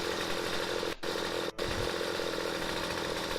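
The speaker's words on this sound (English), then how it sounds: "I want a chainsaw with more than one blade." A chainsaw runs in the StarForge video game, a steady buzzing drone cut by two very brief gaps, moderately quiet and with no talking.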